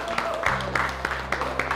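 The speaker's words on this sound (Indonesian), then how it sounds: "kita berikan tepuk tangan." A small group at a school education funding announcement claps in quick, evenly spaced claps for a couple of seconds, faint and slightly distant, with a voice over it.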